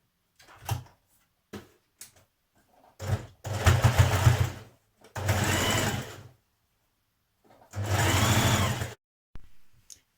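A sewing machine stitches a side seam on a shirred dress in several separate runs of two to three seconds each. Short clicks and handling knocks come between the bursts.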